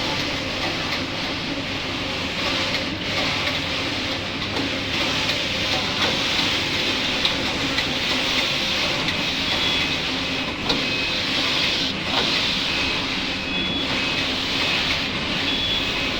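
A newly started flour mill machine runs with a loud, constant broadband roar and grinding hum, steady throughout with slight pulsing and no pauses.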